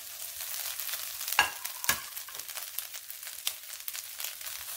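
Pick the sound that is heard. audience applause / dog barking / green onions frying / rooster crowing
green onions frying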